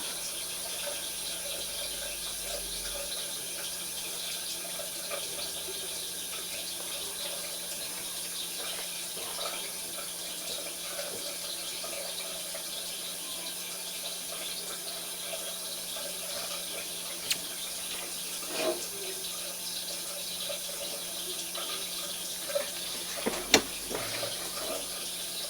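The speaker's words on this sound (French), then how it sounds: "Nous allons ouvrir le robinet qui va s'évacuer dans cette chambre de visite" A water tap runs steadily into a drain inspection chamber in the same room as a toilet, a faint, constant hiss of flow with a few small knocks near the end.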